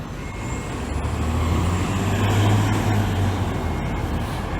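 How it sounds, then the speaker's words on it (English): A fire truck pulls out of fire station 314 onto Yonge Street in downtown Toronto, its heavy diesel engine rumbling loud and close over a steady wash of city traffic noise. "And here comes a fire truck out of fire station 314."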